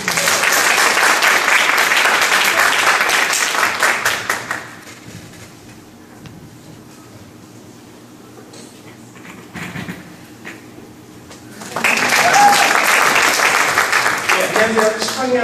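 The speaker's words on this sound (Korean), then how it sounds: "박수로 환영해 주시기 바랍니다." Audience applause welcomes a speaker at a school admissions information session, loud dense clapping that fades to near quiet with faint room noise, then swells again into another strong round of clapping.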